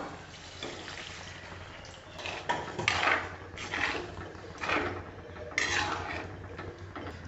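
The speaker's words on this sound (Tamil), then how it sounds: "நம்ம அரைச்ச அதே மிக்சி கப்பில் தண்ணி ஊற்றி நல்லா அலசி ஊற்றிக்கலாம்" Water is poured into a mixer grinder jar that still holds ground spice paste for chicken curry, then swirled. Several close sloshing, rattling bursts sound against the jar at an uneven rhythm, with no talking.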